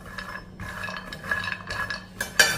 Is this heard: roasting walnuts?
yes